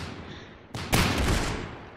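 In the shooter game Arsenal, a big gun fires once with a sharp report, followed by a heavier blast that trails into a loud rumbling decay, close and alone without speech.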